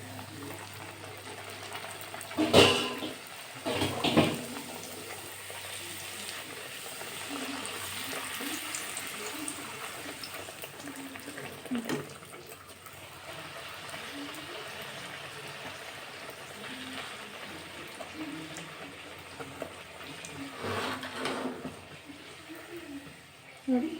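Puri deep-fried in hot oil, a steady close hiss and bubbling crackle that runs throughout with a few louder splashes near the start, under someone talking.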